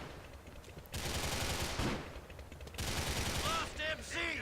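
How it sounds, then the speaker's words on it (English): Gang members open fire in a GTA gang war, with dense bursts of automatic gunfire erupting in two loud stretches, broken by a brief lull, with a voice speaking underneath. "my guys are shooting at him"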